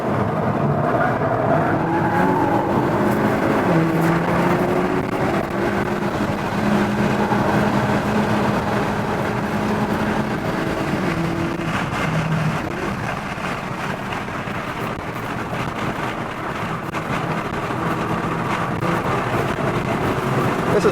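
A 2022 Hyundai Elantra N lapping a racetrack, its engine droning steadily with rising and falling pitch through shifts, heard continuously from inside the car amid road and wind roar.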